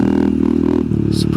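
A Honda Monkey motorcycle pulling in, its small engine idling in a steady close putter with a slight change in pitch as it slows.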